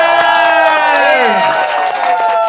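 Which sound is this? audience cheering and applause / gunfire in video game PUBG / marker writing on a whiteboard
audience cheering and applause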